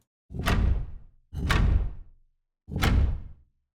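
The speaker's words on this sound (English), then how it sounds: "Stone door you had to open with a switch by stepping on it." A heavy stone door in the video game MouseHaunt, opened by stepping on a floor switch, grinds and thuds in three separate loud, deep bursts, each fading quickly into silence.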